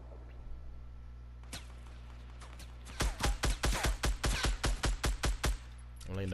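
Gunfire in the Fortnite battle royale game arrives as a rapid burst of about a dozen punchy shots in quick succession, following a few scattered earlier shots over a quiet game background.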